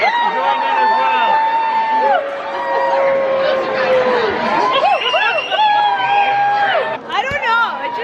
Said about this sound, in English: when people start cheering